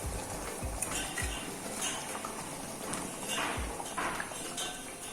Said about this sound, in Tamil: ஒரு இடம் கிளறி விட்டுறலாம்